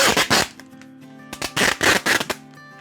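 Crackly rustling of plastic wrap and adhesive tape being pulled and wound around a jar of green plum syrup to seal it, in loud bursts with short pauses between, close up.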